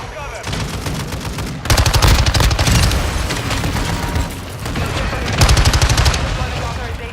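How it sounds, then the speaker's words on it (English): In a video game, a mortar strike and gunfire erupt as loud volleys of rapid automatic shots in two heavy bursts over a continuous din of battle. "Hostiles launch the mortar strike. Take cover."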